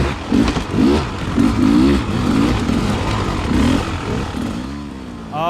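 A hard enduro dirt bike engine revs in repeated sharp bursts, rising and falling in pitch, loud and close with a clattery mechanical edge.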